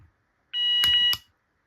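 A fire alarm sounder on a newly installed system activates during a weekly test: a single short electronic tone that is steady and close, lasting under a second, with quiet before and after.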